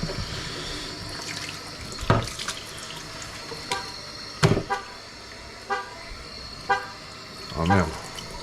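Short electronic toots from a car locking by remote key, heard several times at irregular intervals over running water and scrubbing during aquarium cleaning, moderately close.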